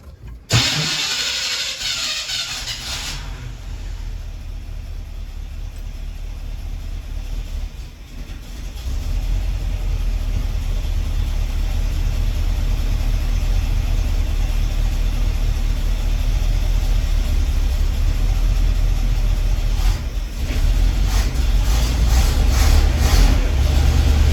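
A K10 engine starts and keeps running on fuel drawn from its tank, a steady low engine drone holding close and loud for the whole stretch after a brief starting burst.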